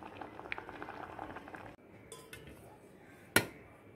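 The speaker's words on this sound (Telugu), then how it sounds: "ఇలా స్టవ్ మీద పెట్టి ఒక 5 నిమిషాలు ఉడికిద్దాం" A grape and beetroot juice mixture boils in a pot on a stove, giving a steady low bubbling and simmering close by, with a sharp metallic clink of a pot or utensil near the end.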